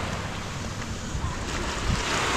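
Sea waves at the rocky beach front of Brizamar Beach Resort in Batangas wash in with a steady broadband rush, blended with wind buffeting the microphone, constant and moderately loud with no voices.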